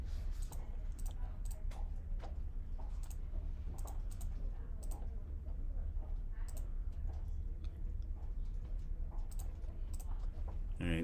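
Rapid clicks of keys tapped on a calculator or keyboard during an algebra lesson, scattered irregularly over a steady low background hum, with no clear talk.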